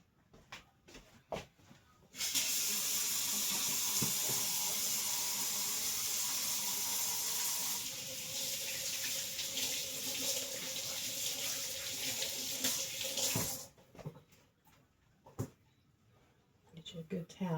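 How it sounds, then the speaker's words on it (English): A kitchen tap runs steadily for about eleven seconds while hands are washed under it, loud and close, with brief talk and small clatters before and after the flow. "we're going to wash my hands real quick before I get into the seasoning box"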